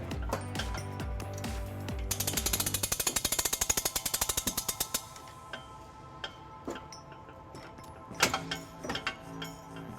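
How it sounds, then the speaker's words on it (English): U-Haul hitch jack raising a trailer hitch during installation on a 2022-2026 Hyundai Tucson, with close rapid mechanical ratcheting clicks in a quick run, then scattered metallic knocks and clanks. "To do that today, I'm going to use the U-Haul exclusive hitch jack."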